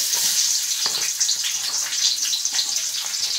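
Chopped onions frying in hot oil in a pan for chicken egg noodles give a steady, loud, close sizzle with a bright hiss and a few soft bumps, with no talk.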